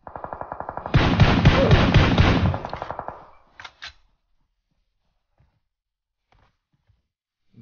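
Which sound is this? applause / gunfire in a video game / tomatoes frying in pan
gunfire in a video game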